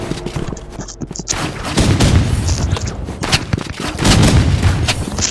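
Gunfire in the Roblox Rivals video game: loud, rapid bursts of shots and sharp booms come in clusters across the few seconds with no speech over them.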